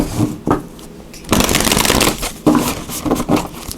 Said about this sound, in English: So we just get one more shuffle here.